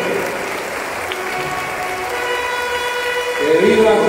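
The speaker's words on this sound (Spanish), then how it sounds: "Démosle un fuerte aplauso a nuestro hermano de Jesús Nazareno." A crowd claps at a Jesús Nazareno religious procession in San Isidro de Heredia, Costa Rica, a loud continuous applause with voices and cheering rising over it near the end.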